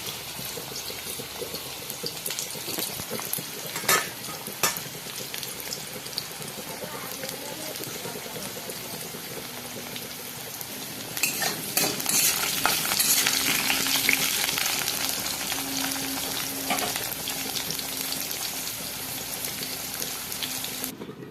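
Spice masala frying in a pan for a Bengali koi fish curry, a continuous loud sizzle with stirring clatter, swelling louder midway as the paste is worked around the pan.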